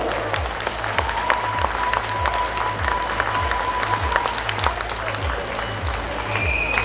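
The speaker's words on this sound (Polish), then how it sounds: "I tu naprawdę należą się ogromne brawa." An audience at a youth football gala in Radzyń Podlaski gives sustained, dense applause for a youth team, with a steady pulsing music beat underneath the whole time.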